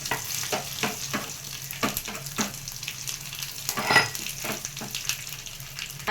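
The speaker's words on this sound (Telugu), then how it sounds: "వేగిపోయిందండి. ఇప్పుడు వెల్లుల్లిపాయ వేసుకున్నాం." Garlic sizzles and crackles in hot oil as a tempering for tomato gongura lentil dal, with repeated scraping stirs at an uneven rhythm close by.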